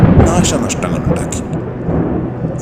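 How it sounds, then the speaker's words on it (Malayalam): Low thunder rumbles beneath a horror audio story, loud and continuous throughout the short stretch, with a voice narrating over it. "ആകാശ തങ്ങിങ്ങായി ഇടിമുഴക്കങ്ങൾ കേട്ടു തുടങ്ങി"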